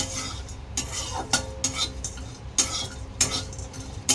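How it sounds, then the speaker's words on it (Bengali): Whole garam masala for biryani lightly frying in a wok, with repeated scraping stirs of a utensil against the pan in a steady rhythm over a faint sizzle, close by. "কড়াইতে বিরিয়ানি গোটা গরম মশলাটা দিয়ে দিয়েছি দিয়ে একটু হালকা করে ভেজে নেব"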